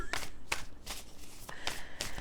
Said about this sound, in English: let's shuffle a few more times